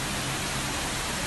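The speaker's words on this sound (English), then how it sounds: "A violent hailstorm has battered parts of Sicily" Hailstorm pounding down in Sicily, a dense, steady hiss of hailstones striking surfaces, loud and continuous with no break across the short stretch.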